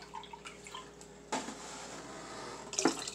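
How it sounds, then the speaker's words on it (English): Water pouring into a pot of lentil, beef and bacon soup on the stove, starting with a sudden steady gush and ending in a brief splashy burst, fairly close. "So we put in 4 cups of water"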